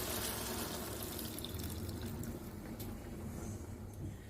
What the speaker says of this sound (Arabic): في الوقت ده هبدأ ان انا انزل بالمرقة عليها